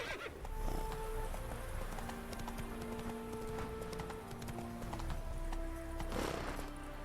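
Roach the horse gallops in The Witcher 3, with a steady clip-clop of hooves and whinnies over continuous game music, loud and close throughout.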